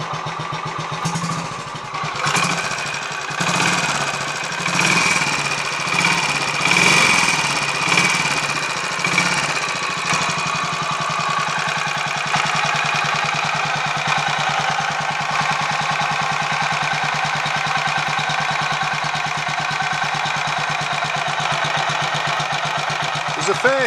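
Royal Enfield 500 Machismo motorcycle single-cylinder engine idling steadily as it warms up, a continuous close mechanical drone with a busier, louder patch in the first several seconds before settling into an even idle.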